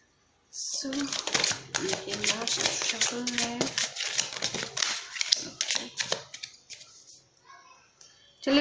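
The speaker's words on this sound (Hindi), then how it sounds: "सो ये लास्ट शफल है।" Tarot cards are shuffled by hand in a rapid flurry of papery flicks and riffles that fade toward the end, with a voice talking over them.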